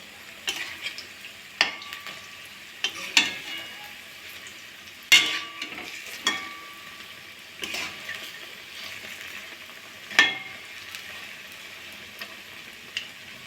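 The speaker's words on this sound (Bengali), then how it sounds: "উল্টে পাল্টে ভালো করে ভাজা করে নেব।" Amadi fish chops are flipped and fried in hot oil in a kadai: a soft, continuous sizzle broken by several sharp spatula clicks and scrapes at irregular intervals, with no talking.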